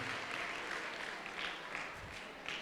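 Children at Acharyakulam, Patanjali Yogpeeth in Haridwar clap together in steady, moderately quiet applause that runs throughout.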